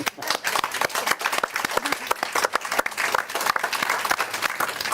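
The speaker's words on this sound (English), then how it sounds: "I think they all deserve a round of applause." Audience applause for the board of the Third Age Trust at its annual general meeting, a dense sustained round of clapping from a hall full of people.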